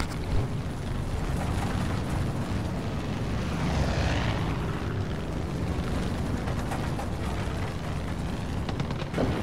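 A propeller-driven airplane in a video game drones past as a steady, loud engine roar with a broad rushing hiss that swells slightly midway, no talk over it.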